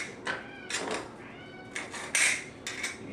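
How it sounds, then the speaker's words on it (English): A pet cat meows repeatedly in a kitchen, about five short, fairly close cries at irregular intervals against quiet background. "You can hear my cat in the background."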